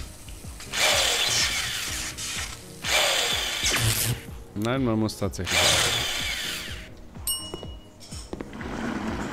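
Ratcheting and clicking tool sounds from repairing a broken fridge in the Cafe Owner Simulator video game, coming in repeated bursts of mechanical rattling with brief pauses between them, and a short spoken remark partway through.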